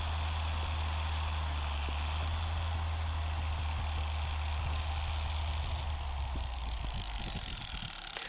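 A ShineMate EX620 5/15 dual-action car polisher runs steadily on its 4th speed setting, giving a continuous close motor drone with a strong low hum and a faint high whine, unchanged throughout.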